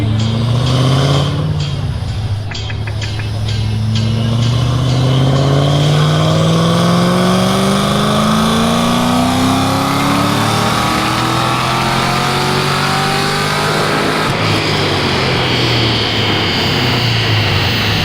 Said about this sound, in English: We got a white Mustang on the dyno right.